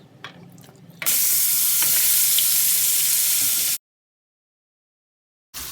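Ground onion and tomato paste hits hot oil with a loud, steady sizzle and crackle for about three seconds, then cuts to silence before the frying noise briefly returns.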